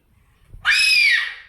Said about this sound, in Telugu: ఎందుకు అరుస్తున్నావు?